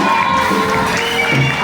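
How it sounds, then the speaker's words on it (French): A church congregation at a Christmas evening service cheering and shouting for joy, a dense, loud, continuous crowd roar with overlapping voices. "agiter ta main là où tu es avec les cris de joie et les acclamations pour notre Dieu."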